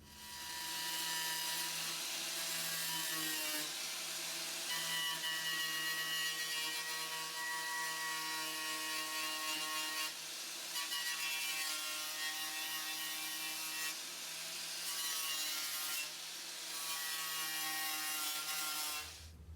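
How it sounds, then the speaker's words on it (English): A power tool grinds paint off the metal body of a 1988 Dodge Raider, making a loud, steady, high-pitched whine. It runs continuously for most of the stretch, with short dips where the tool eases off, and no talking. "So I'm going to go ahead and grind all the paint off of that"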